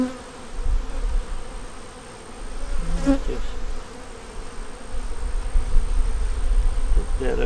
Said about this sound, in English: We got bees underneath there though.